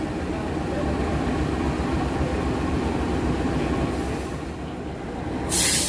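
Detached locomotive being shunted at an Indonesian station, a steady rumble of rolling stock and wheels on rail that fades slightly before a brief hiss near the end, with no voices.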